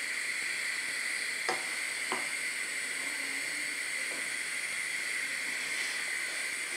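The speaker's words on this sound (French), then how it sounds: "Je vais prendre une louche comme ça de notre pâte et je vais le verser dans notre poêle" Pancake batter ladled into a frying pan sizzles with a soft, steady hiss, and a few light clicks of a utensil sound close by, with no talking.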